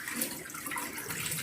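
Water from cooked pasta being drained while making milky berkoukes, a brief rushing pour of liquid splashing steadily, close and alone.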